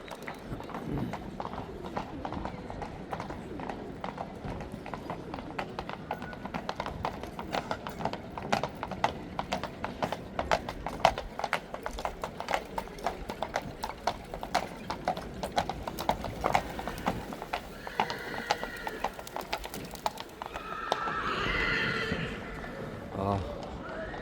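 Rapid rhythmic clip-clop of horse hooves on a hard surface in Kraków town centre, ending with a horse's loud whinny near the close; voices murmur in the background.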